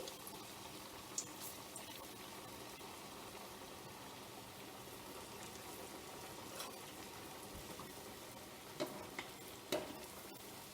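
Potato stuffed bread rolls frying in oil over medium heat, a quiet steady sizzle with a few faint clinks, no talk.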